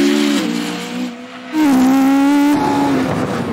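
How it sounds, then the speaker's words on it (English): Ariel Atom race car with a 3-litre V8 built from two motorbike engines, lapping a track: a loud, close engine note rising and falling through gear changes, revving hard as it accelerates out of a corner. "The Atom's 3-litre V8 is actually 2 motorbike engines stuck together."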